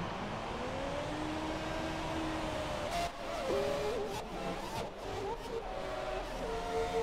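A Haas Formula 1 car engine in the video game F1 2017 at the Australian Grand Prix revs and whines steadily, pitch rising and falling as it shifts gears, sustained at moderate volume with no talking.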